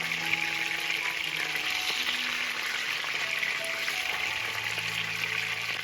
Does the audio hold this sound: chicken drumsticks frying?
yes